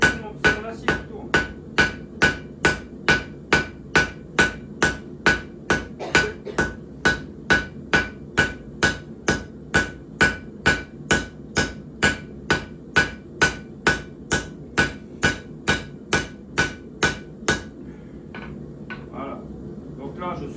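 A hammer strikes hot steel being forged into a knife blade, around forty evenly spaced ringing blows over roughly seventeen seconds as the bar is turned, then the pounding stops and someone speaks French quietly.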